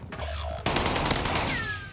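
Gunfire in the Warzone Rebirth solo mode: a dense, rattling burst of rapid shots that runs steadily for about two seconds, loud and close, with a sharp swell of shots partway through.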